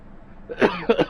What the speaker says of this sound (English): I wish this stupid cough would go away.